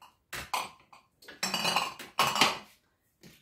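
Glass bottles are set one after another into a metal baking tray holding a little water, giving several short clinking, clattering bursts with brief pauses between them.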